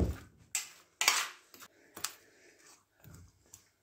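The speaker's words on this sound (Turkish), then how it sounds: "Şimdi sütümü de ekliyorum şöyle. Şöyle karıştıralım." Milk being stirred into potatoes in a pot, heard as a series of sharp utensil clinks and scrapes against the pot, spaced irregularly and fairly close, with no talk.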